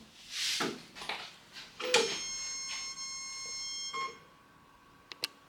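A Vevor vinyl cutting plotter switches on with a few clear electronic beeps, some longer tones and a couple of short chirps, heard near and alone in a quiet room.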